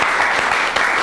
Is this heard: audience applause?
yes